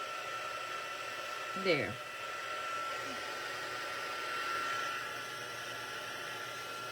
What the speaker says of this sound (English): with the Stampin' Up! Heat tool.